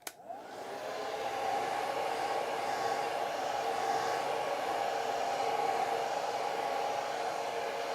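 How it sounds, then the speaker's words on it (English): A blow dryer switches on and runs with a steady, loud whooshing roar that holds evenly to the end. "I'm going to put the blow dryer on"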